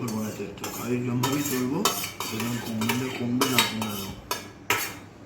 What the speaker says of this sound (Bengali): তুমি এত আওয়াজ করছো চামচ আর থালায়